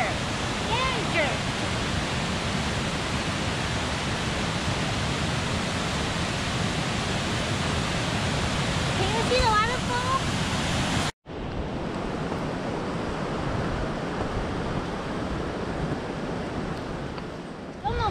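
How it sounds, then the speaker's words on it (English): A waterfall on the trail at Geiranger, Norway, gives off a continuous, loud roar of rushing water that stops abruptly, then resumes slightly quieter. "Beautiful waterfall."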